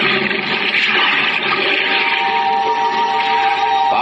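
A diver plunges overboard into the sea as a radio drama effect, a loud, close rush of churning, gurgling water that keeps up steadily for several seconds.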